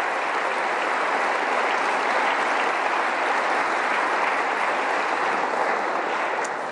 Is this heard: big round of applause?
yes